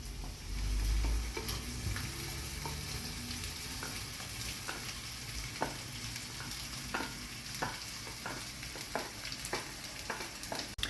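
Rice being stir-fried in a hot wok for Thai shrimp fried rice: continuous sizzling with repeated sharp scrapes and clanks of the spatula against the pan, close and steady.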